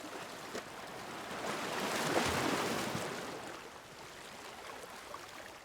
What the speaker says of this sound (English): listening to the swishing of ocean waves hitting the shore